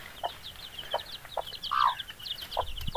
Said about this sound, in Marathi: कोंबडी आणि तिचे पिल्लं